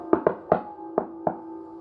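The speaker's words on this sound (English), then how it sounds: "He knocked twice more." Five knocks on a window, a quick pair followed by three spaced single raps, sharp and close with short resonant tails, used as a sound effect in an eerie horror narration.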